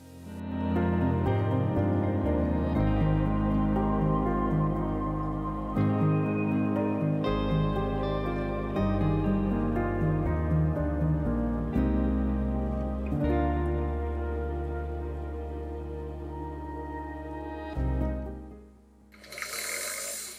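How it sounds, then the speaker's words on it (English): A sewing machine runs steadily while winding a bobbin in matching thread, then stitches in sustained motorized whirring with small changes in speed and pitch, ending in a short break and a burst of noise; no talk. "There's something very ritualistic to me about that first winding of a bobbin in a matching colour."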